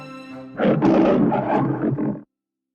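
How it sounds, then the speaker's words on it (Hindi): A powerful lion roar rolls out loud and close for under two seconds, rough and sustained before stopping abruptly, preceded by a brief tonal musical note. "अचानक उसने अपने कमजोर, डरे सहमे हुए व्यवहार को छोड़ दिया और बड़े शक्तिशाली शेर की तरह दहाड़ने लगा"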